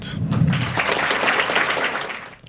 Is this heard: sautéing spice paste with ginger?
no